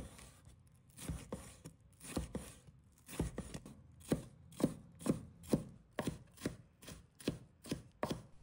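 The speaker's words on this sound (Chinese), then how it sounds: "把它切成小粒。" A knife chops fresh red chili peppers into small pieces on a cutting board, a series of sharp, evenly spaced close taps, irregular at first and then settling into a steady rhythm.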